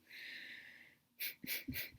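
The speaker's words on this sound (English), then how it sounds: "Percussive breathing is really just taking that big inhale and then exhaling slowly." A person takes a long audible inhale, then breathes out in several short, sharp percussive bursts, close to the microphone with no talking.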